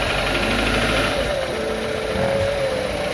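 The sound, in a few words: knocking 2500 cc VTC car engine idling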